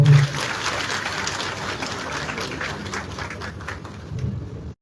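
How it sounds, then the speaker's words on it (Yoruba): Steady applause from a crowd greeting Anthony Adeboye at a Yoruba gathering, a dense even patter of clapping holding at a constant level for several seconds before cutting off abruptly. "bá mi fún ọ ní àtẹ́wọ́"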